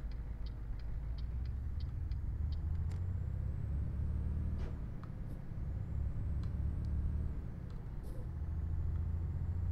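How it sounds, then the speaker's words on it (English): A truck engine rumbles low and steady throughout a truck driving video game, with faint high electronic tones and brief clicks over the drone and no talk. "Truck sounds rough."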